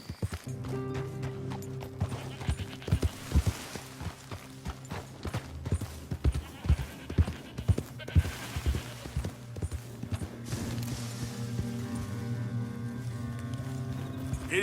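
Horse hooves clopping at a gallop in Red Dead Redemption 2, a steady rapid rhythm of close, punchy beats over a constant low rumble, with occasional faint voice.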